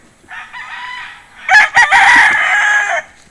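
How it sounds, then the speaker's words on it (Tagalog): A stag, a young rooster about a year old, crows once loudly and close by, with a short rising start and then a long, strained, sustained call. "Ito, stag lang ito."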